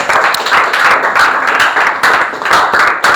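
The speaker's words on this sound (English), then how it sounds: "Give him a big round of applause." A classroom of students claps together in a short burst of brisk, close applause, steady and loud throughout with a few sharper individual claps standing out.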